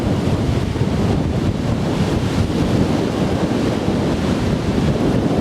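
Strong wind on an open countryside walk between Arundel and Amberley, roaring loudly and steadily against the microphone with a constant rushing buffet and no voices.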